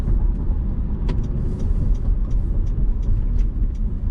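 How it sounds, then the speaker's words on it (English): A 2020 Mitsubishi Pajero Sport Exceed diesel is heard from inside while driving, a steady low engine and road rumble with faint ticks and clicks over it. "the diesel note as well isn't really that loud, so you don't really know you're driving a diesel"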